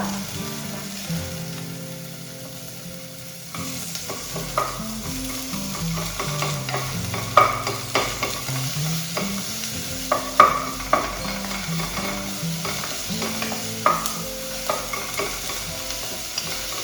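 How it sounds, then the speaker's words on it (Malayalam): Chopped onion goes into a pan of sizzling garlic and is stirred, giving a steady frying hiss with repeated scraping and clacking strokes from the spoon, fairly close and with no one speaking. "വെളുത്തുള്ളി റെഡി ആയിട്ടുണ്ട് അപ്പം അതിനകത്തേക്ക് സവോള"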